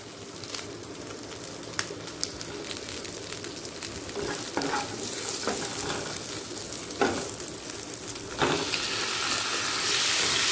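Chopped ginger and green chillies fry in a pan, a close, continuous sizzle broken by several sharp scraping stir strokes, the hiss growing louder toward the end.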